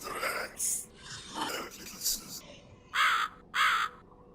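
A crow caws in a video game, several harsh, close calls standing out in short bursts, with game sounds and a voice heard around them.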